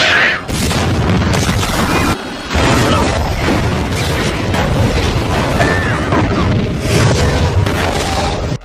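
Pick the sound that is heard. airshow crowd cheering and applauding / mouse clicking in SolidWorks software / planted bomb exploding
planted bomb exploding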